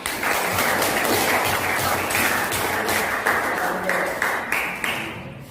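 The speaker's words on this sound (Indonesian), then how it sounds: "Oke, kasih tepuk tangan." Classroom applause from a group of students during a vocational lesson on motorcycle engine work, a steady dense patter of clapping lasting several seconds with a few sharper claps near the end.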